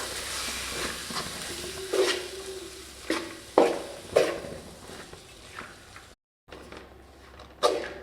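Horse gram frying and being stirred in a hot pan, a steady sizzle broken by several sharp scrapes and clinks of a spoon against the metal, close by with no talk.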